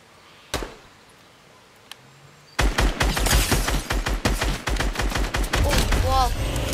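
Rapid bursts of gunfire at a bot in the Fortnite video game, a couple of isolated shots first, then a dense, loud, continuous barrage of cracks that runs to the end.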